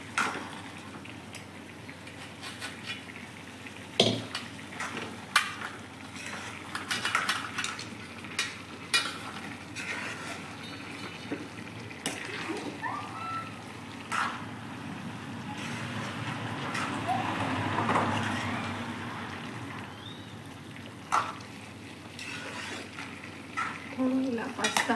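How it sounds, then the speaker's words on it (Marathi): Carrot halwa is stirred in a pan, giving a steady soft scraping and faint sizzle with occasional sharp clinks of a spoon against the metal, close and continuous throughout. "थोडं 5-10 मिनिटं हलवायचं आणि सुकेपर्यंत."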